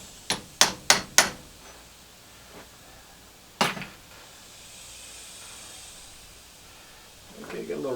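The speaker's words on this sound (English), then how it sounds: "Let me give it a tap with a hammer," A hammer taps scrap brass plumbing fittings: four quick sharp metallic knocks in a row, then a single louder strike after a pause, close and clear over low background hiss.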